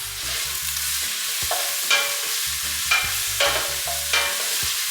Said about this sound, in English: add your garlic in there. Okay. You're gonna let this saute for about 2 to 3 to 4 minutes